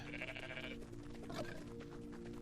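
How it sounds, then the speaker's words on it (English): Bleating goat in a video game, a wavering bleat over steady game music and ambience, fairly faint. "Almighty goat."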